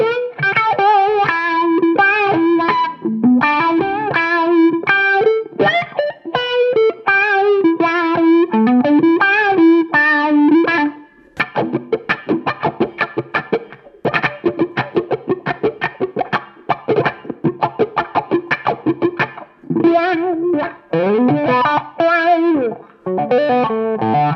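Electric guitar played through Line 6 gear with a Variax, Pod HD500 and DT25 head, heavily distorted, with a wah pedal sweeping the tone through melodic runs and choppy rhythmic strumming, loud and continuous.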